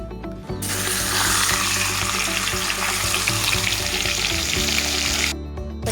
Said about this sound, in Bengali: তো এখানে আমার তেল গরম হয়ে গেছে মাথাটা দিয়ে দিব